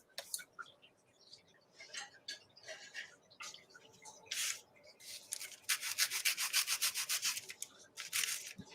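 Thin paper being lightly sanded to distress it, giving soft scratchy rubbing strokes in short bursts that grow into a quicker rhythmic run near the end, close and fairly quiet.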